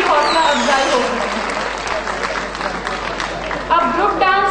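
An audience at a children's play and dance presentation gives strong, continuous applause for teachers, helpers and workers, with a dense clapping texture and some voices cutting through near the end.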